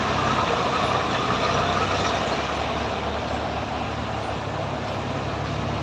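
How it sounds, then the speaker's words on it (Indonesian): Heavy trucks grind along the steep, winding Sitinjau Lauik mountain road, a loud, continuous broadband engine and road roar filling the whole stretch with no pauses. "Banyak truk-truk besar guys."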